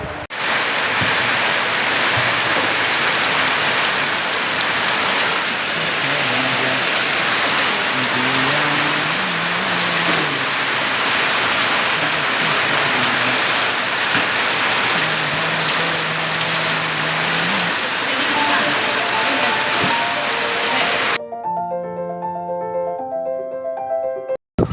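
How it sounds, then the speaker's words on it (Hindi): Heavy rain pours down steadily and loudly on a farm, a dense continuous hiss close by, with a low engine hum underneath; it cuts off abruptly near the end. "बहुत ज़्यादा बारिश हो गई है"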